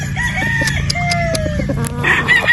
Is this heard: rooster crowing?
yes